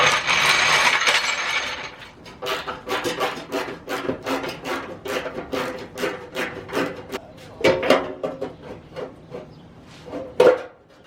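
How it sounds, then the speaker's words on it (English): Ratchet wrench clicking in quick bursts while backing out a screw underneath a Mazda Miata, with steady repeated pawl clicks, close and fairly loud, and a brief rubbing scrape at the start. "There is one screw under here that I wasn't able to get, so we're getting it now."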